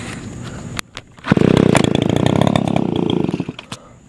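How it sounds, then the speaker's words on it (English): Backpack leaf blower engine starts up after a couple of short pulls, catching at once into a loud, steady, raspy two-stroke roar that holds for about two seconds and then sputters and cuts out. "he's actually upgrading from a handheld blower to a backpack blower, and it works fine"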